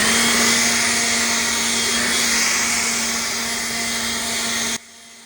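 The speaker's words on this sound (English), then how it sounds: "This is definitely a powerful leaf blower" A leaf blower's loud, steady motor roar with a constant hum runs nearly the whole time, then cuts off abruptly near the end.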